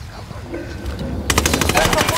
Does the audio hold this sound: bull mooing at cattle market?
no